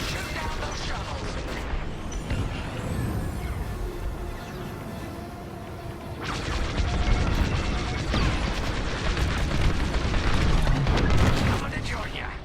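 Explosions and laser fire in the space combat game Star Wars: Squadrons, a steady rumbling roar with repeated blasts that grows louder and denser in the second half, with a voice talking over the action.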